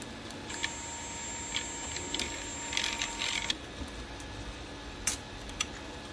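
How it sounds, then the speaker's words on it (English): An Artillery Sidewinder X1 3D printer unloads its filament with faint mechanical ticks and a short ratcheting, whirring burst from the extruder, followed by a few isolated clicks in a quiet room. "now I'm going to go ahead and unload the filament"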